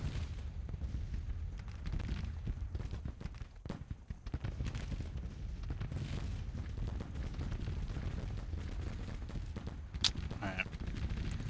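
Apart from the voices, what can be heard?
artillery fire in a Civil War strategy video game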